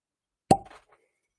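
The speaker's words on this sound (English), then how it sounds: "wet cork pop" A wet cork popping out of a Jim Beam bourbon bottle, a single sharp close plop followed by a brief soft squeak, then silence.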